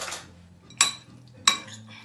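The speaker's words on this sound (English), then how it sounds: "I'm just going to stir it up now" A utensil scrapes and clinks against a bowl while seasoned flour with salt and pepper gets stirred, making two sharp knocks between softer scraping sounds.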